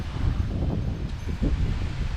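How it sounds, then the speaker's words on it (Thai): Leaves of a Bodhi tree at a quiet hillside temple rustle steadily in the wind, a dense, continuous hiss mixed with low wind rumble, with no voices. "นี่นะครับเสียงต้นโพ ใบโพเนี่ยดังตลอดเลยนะครับ เพราะว่า ลมเนี่ยพัดดีตลอดเลยนะครับ"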